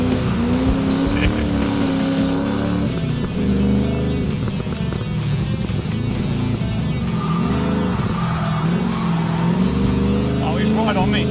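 A cheap V8 Ford Falcon doing skids in Australia, its engine roaring and revving loudly and continuously with tyre noise, close and dominant for the whole stretch.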